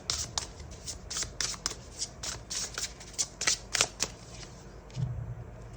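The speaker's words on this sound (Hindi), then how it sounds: "एक और कार्ड निकालते हैं।" Tarot cards are shuffled by hand in a rapid run of papery riffles and flicks, close and soft, ending with a card drawn from the deck.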